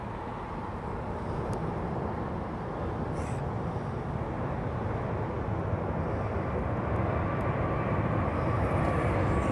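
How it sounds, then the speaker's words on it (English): A Virgin jet airliner passes near an airfield, its engine roar a steady broad rumble building gradually louder across the span. "It's another Virgin jet, isn't it?"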